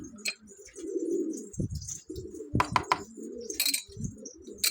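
Pet pigeons or doves coo in low, throaty bursts, close by, with a few sharp clicks and rustles between the calls.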